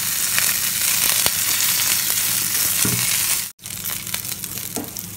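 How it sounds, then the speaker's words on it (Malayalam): Onions and curry leaves sautéing in a pan for a spicy tapioca masala, a steady close sizzle and fry with occasional stirring scrapes and a brief cut near the end. "ഇനി ഇത് നന്നായിട്ട് വഴറ്റിയെടുക്കാം"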